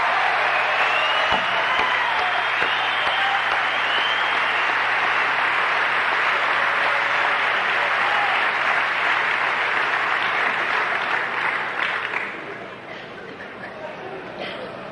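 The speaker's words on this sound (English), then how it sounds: "How about let's give those people a round of applause, huh?" Sustained audience applause at a Narcotics Anonymous speaker meeting, a dense wash of clapping with some crowd chatter underneath, tapering off toward the end.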